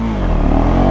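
A KTM Duke 390 Gen3 motorcycle launches with launch control engaged and traction control off, its engine giving a loud, close, rising rev as it pulls away hard.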